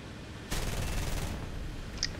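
Aircraft cannons firing in War Thunder, a single loud burst of rapid gunfire lasting under a second after a quiet stretch, then a faint background hum.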